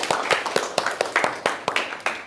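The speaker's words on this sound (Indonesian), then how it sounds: "Tepuk tangan dong untuk Rika." A small group in a classroom session claps for several seconds. The claps are sharp, fairly rapid and close, with no talk over them.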